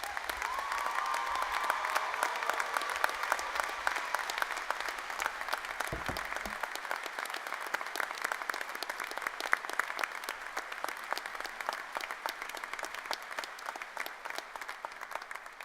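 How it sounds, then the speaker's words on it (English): Sustained applause from a graduation audience greeting the Army's newest second lieutenants at a winter commissioning ceremony, dense steady clapping from a large crowd that carries on unbroken and fairly loud throughout. "please join me in a round of applause for the Army's newest second lieutenants"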